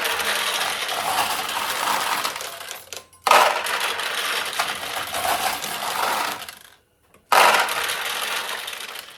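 Handfuls of steel balls pour into a restored vintage Daiichi pachinko machine, making a continuous dense metallic rattling and clinking, broken by two short pauses.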